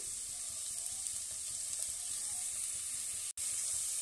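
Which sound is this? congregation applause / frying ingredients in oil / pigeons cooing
frying ingredients in oil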